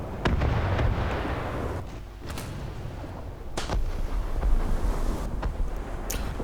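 Naval gun salvo striking a ship in the War Thunder combat game, a series of sharp heavy booming impacts spaced irregularly over rumbling wind-like background noise.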